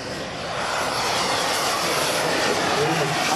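Model jet aircraft sold by HS Hobby flies overhead at a flying field, its turbine producing a loud, continuous whooshing roar that swells slightly as it passes.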